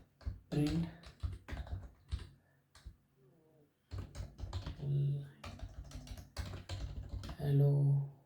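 Rapid clicking keystrokes on a computer keyboard as Python print code is typed, coming in quick bursts with a short pause in the middle and someone talking over the typing.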